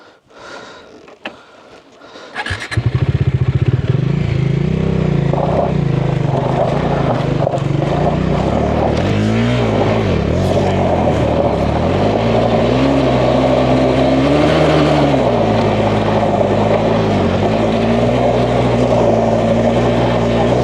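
Motorcycle climbing a rough mountain road to a stone house in the Hacer forests, its engine kicking in after a few seconds and then droning loud and close, revs rising and dipping with the terrain.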